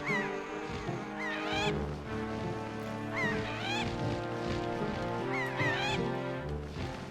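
Seagull cries in Zelda Wind Waker HD, repeated honking, squawking calls over a sustained musical game soundtrack, loud and close.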